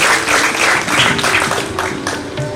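Audience applause at a poetry recital event, a brisk, close burst of many hands clapping at full volume for a couple of seconds.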